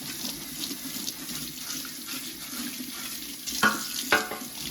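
Washing an air fryer basket at a sink with a sponge and dish soap: a steady run of tap water with wet scrubbing, and a couple of sharper knocks or scrapes near the end, no speech.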